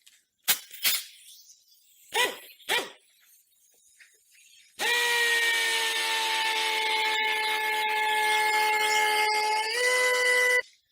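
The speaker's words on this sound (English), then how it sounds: "We've got our air drill here." A few sharp clunks, then a pneumatic air drill mixing paint starts and runs with a steady high-pitched whine for several seconds before stopping.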